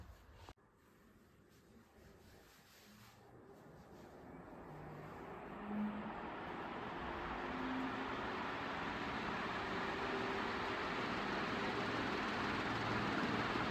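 An Orient Summercool / Gold Medal ceiling fan whirs steadily after a click at the start, its broad airy whoosh swelling over the first seconds and then holding even.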